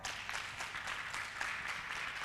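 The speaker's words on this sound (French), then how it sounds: "et on s'applaudit très fort." Audience applauding at a youth holiday event on politics, a steady wash of clapping hands from a crowd, fairly soft and even throughout with no pauses.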